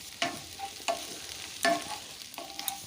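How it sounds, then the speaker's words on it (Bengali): Cauliflower being stirred in a hot pan with a spoon, four distinct scraping strokes spaced about a second apart over a soft background sizzle, close and fairly clear. "ফুলকপিটাকে আরেকটু নাড়াচাড়া করে নিচ্ছি"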